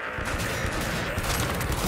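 Dense automatic gunfire in the video game Cyberpunk 2077, a continuous loud barrage of rapid shots filling the whole moment.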